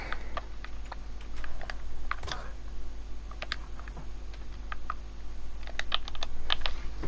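Computer keyboard keys and mouse buttons click in irregular bursts during a Minecraft multiplayer gaming session, sharp and fairly close over a steady low hum.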